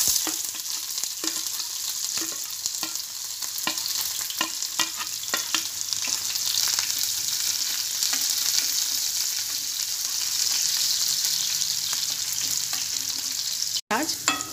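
Onions frying in hot oil in a frying pan give a steady, bright sizzle throughout, with scattered stirring clicks and scrapes on top, close and unaccompanied by talk.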